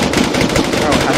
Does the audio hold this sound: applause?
no